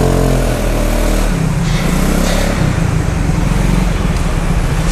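A Piaggio Zip scooter engine runs close by during a test ride, a steady buzzing drone that settles into a rougher, pulsing tone as it moves off, with road noise underneath.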